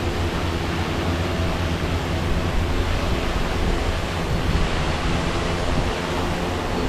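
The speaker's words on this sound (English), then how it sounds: "Wind's catching a little bit there." Wind blows steadily during an outdoor hexacopter drone flight, a dense, continuous broadband rush with buffeting gusts filling the whole stretch, close and loud with no talking.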